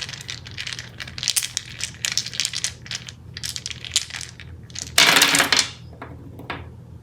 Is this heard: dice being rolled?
yes